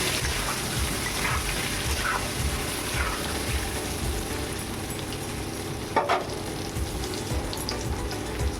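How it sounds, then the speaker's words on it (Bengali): Potatoes fry in hot oil with a steady, loud crackling sizzle throughout, and a brief stir or clink partway through. "এই যে লাল লাল করে আলুগুলো ভেজে নিয়েছি"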